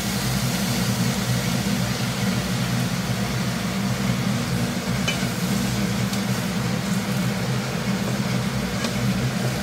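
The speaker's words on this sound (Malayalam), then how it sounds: "ഒരു ബ്രൗൺ നിറമാവുന്നവരെ വഴറ്റാം." Onions sautéing in coconut oil for kappa biriyani give a steady, dense sizzle that runs unbroken and fairly loud throughout, with a faint low rumble underneath and no talking.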